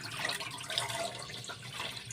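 Rice for vegetable biryani is rinsed in water in a pot, a continuous soft splashing and swishing with faint trickles, steady and close, no voices.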